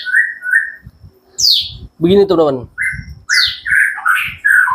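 A white-rumped shama whistles and chirps in bright, varied phrases while someone talks over it, the birdsong close and fairly loud throughout.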